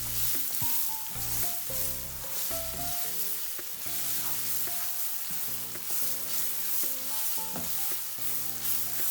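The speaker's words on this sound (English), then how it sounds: "And this should fry for just a minute" Onion sizzles and crackles steadily in hot oil, a continuous frying hiss with a faint tonal hum running underneath.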